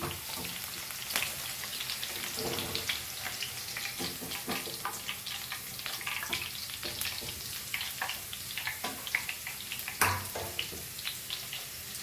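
French beans crisp-frying in hot oil for Goan fried rice, a steady close sizzle with crackling pops and occasional louder spits throughout, no talking.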